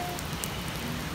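Steady rain patters on a surface during an outdoor walk, a dense hiss of drops with occasional sharper splashes, no voices.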